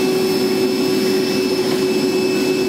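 A vacuum cleaner picks up metal shavings after cutting during a 2021 Ram fifth wheel and gooseneck wiring harness installation, a loud, steady close whine with a constant high tone and no talking.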